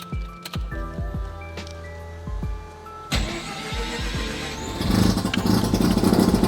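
A rotary-engined car cranks with a series of sharp starter clicks and turns, then fires up into a rough, rising engine roar that stays loud to the end.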